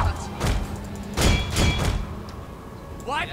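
Several heavy booming thuds of cannon fire in the video game Shogun 2: Total War, coming in a loose sequence with a brief whooshing sweep at the end.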